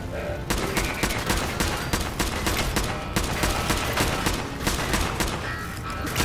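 Dense, continuous automatic gunfire in a Fallout 4 battle against swarm bots, with rapid overlapping shots and bursts sustained close and loud from start to finish.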